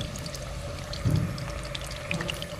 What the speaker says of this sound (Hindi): तो आराम से तेल में डालेंगे, छोटी छोटी पीसेस डालेंगे पहले हम